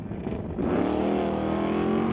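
A 1973 Chevrolet Nova launching off the line at a street-legal drag race at Mission Raceway Park, a sudden loud engine roar that rises sharply in pitch as it accelerates hard and stays loud to the end.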